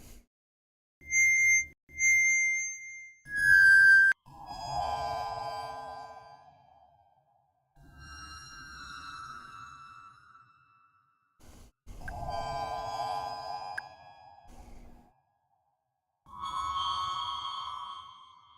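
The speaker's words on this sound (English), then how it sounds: "And then let's try pitching it up." A sampled tone pitched up into a warped, distorted effect: short bright beeps, then several sustained wobbling, sonar-like swells that rise and fade at moderate loudness, with no voices.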